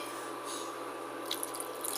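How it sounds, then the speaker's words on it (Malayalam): Water is poured into a pan of fried-egg curry, a soft trickle with a few faint drips near the end, quiet and close. "കുറച്ചും കൂടി വെള്ളം നമുക്ക് ചേർത്ത് കൊടുക്കാം"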